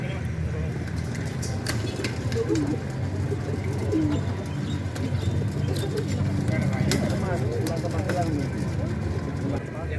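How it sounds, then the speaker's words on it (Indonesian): Racing pigeons are released at an outdoor independence-day club event in Malang, with busy cooing and bird calls mixed with crowd chatter, some clip-clop and traffic noise in a steady, lively din. "Pelepasan burung ke Magelang, sila 1, 2, 3."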